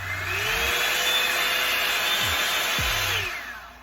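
A Revlon One Step blow dryer brush runs continuously, giving a loud, even rushing-air hiss and motor whine that holds steady before tapering off at the end.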